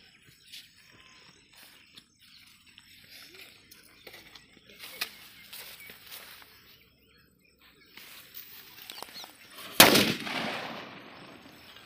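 A Valangaiman country-made firecracker, a Jallikattu type, is tested outdoors. After scattered faint pops and quiet talk, one loud sharp blast rings out near the end, followed by a brief rumbling tail.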